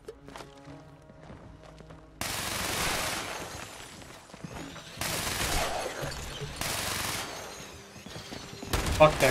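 Gunfire from a gun in the Fallout 76 video game, loud bursts of rapid shots in several rounds with brief pauses between them and footsteps at the start.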